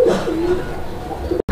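Pigeons kept as a pair for sale give a close, loud coo, a single rolling low call lasting just over a second.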